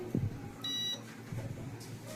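A short, high-pitched electronic beep from a multimeter continuity tester sounds once for about a third of a second, amid faint handling noises.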